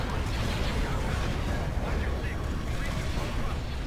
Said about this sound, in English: Those explosions, they look so great.